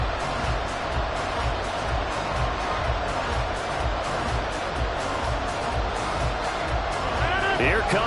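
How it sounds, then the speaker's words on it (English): A large football stadium crowd rises and roars, a dense, continuous wall of cheering and noise that holds steady throughout, with a faint voice coming through near the end. "Here comes a big one as this crowd gets up making some noise"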